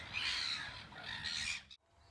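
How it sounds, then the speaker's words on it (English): Seagulls squawking and bickering on Waiheke Island, New Zealand, a dense cluster of loud, overlapping cries for most of the moment before cutting off abruptly into near silence. "of arguing seagulls."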